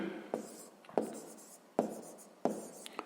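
Pen strokes on paper while a sixth-grade maths exercise is worked by hand, a few distinct scratchy strokes at a quiet, unhurried pace with no talk.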